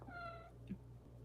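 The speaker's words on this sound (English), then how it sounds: "Yeah, that's a cat sitting up there." A cat meows once softly while waiting to be fed, a brief faint cry over a quiet indoor hum, followed by a small rustle.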